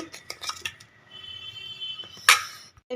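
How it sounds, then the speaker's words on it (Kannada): Spiced food with garam masala being mixed in a metal dish makes close, irregular clinks and scrapes of a spoon against the vessel, with one sharper knock near the end and no talking. "ಇದು ಇವಾಗ ಚೆನ್ನಾಗಿ ಮಿಕ್ಸ್ ಮಾಡಬೇಕು ಮಿಕ್ಸ್ ಮಾಡಿಬಿಡ್ತೀನಿ ರೀ"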